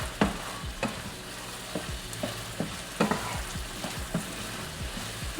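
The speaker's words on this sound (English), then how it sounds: "Now it's starting to fry. That's what we want. Remember, it's cooking down in butter." Food frying in butter in a pan while biscuits and gravy are being made, a steady sizzle broken by repeated scraping stir strokes, close and moderately loud, with no talking.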